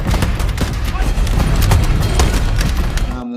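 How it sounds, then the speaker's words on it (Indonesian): Soldiers firing on tanks in a war film, a dense, loud barrage of overlapping gunshots and booms, rapid and continuous, before cutting off abruptly at the end. "Para prajurit ini pun langsung menghujani dengan tembakan."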